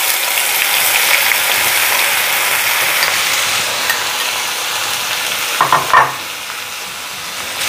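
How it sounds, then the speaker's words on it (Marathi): Onion frying in hot oil with cumin and asafoetida makes a loud, continuous hissing sizzle up close. Near the end come a few quick stirring scrapes, then the hiss softens slightly, with no talk. "आणि हा कांदा आपल्याला अतिशय खरपूस असा भाजायचा आहे"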